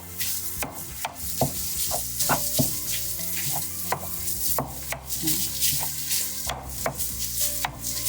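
Ground sausage or hamburger meat sizzles loudly in a pan while a utensil repeatedly chops and scrapes through it, producing rhythmic knocks over the constant frying hiss.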